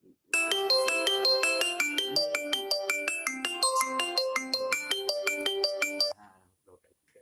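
A bright electronic ringtone plays a steady repeating melody for about six seconds, then cuts off, leaving faint background noise.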